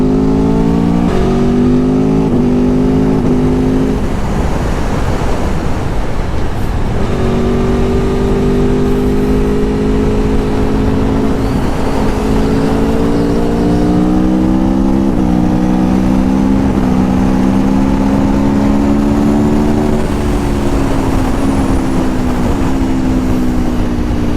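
A 2021 Aprilia Tuono 1100 Factory motorcycle accelerates hard through the gears, its loud engine climbing in pitch, dropping at each shift and climbing again for the full length, heard close up.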